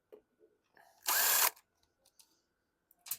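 A DeWalt power drill spins briefly while removing screws from the carburetor of a 2015 Troy-Bilt TB230 self-propelled lawn mower: one loud half-second whir amid quiet clicks and handling noises.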